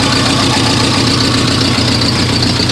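A Suzuki Samurai engine idles steadily, a constant low rumble with broadband hiss, close and continuous throughout with no talking.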